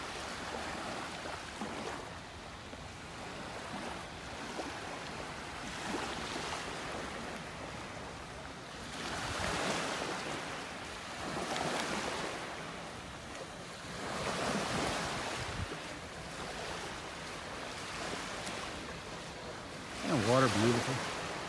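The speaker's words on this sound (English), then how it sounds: "The waves just breaking gently on the sandbar out there." Gentle waves break on a sandbar along a North Naples, Florida beach on a winter morning, with soft surf swells rising and fading every few seconds under steady wind and a faint background wash.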